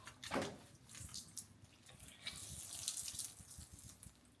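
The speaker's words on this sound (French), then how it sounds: "Hop, inondation dans la cuisine." Water pouring and splashing across a flooded kitchen floor in a Dubai apartment, a steady wet rush with gushing bursts, moderately close and continuous with no talking.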